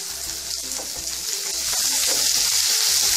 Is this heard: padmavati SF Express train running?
no